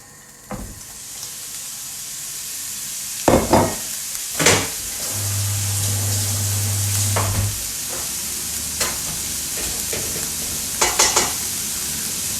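Ground beef browning in a frying pan for cottage pie, a continuous loud sizzle and hiss with several sharp spatula scrapes and clanks against the pan, no talking.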